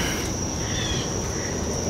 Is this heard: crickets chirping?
yes